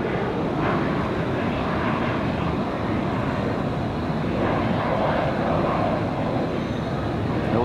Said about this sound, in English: There's a Cessna Citation on 19 left, gonna come out someplace.